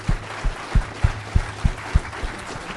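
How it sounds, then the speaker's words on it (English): An audience at a debate claps in a short burst, with steady, rhythmic hand claps that sound fairly close, about two per second. "Can we give a round of applause for the questions?"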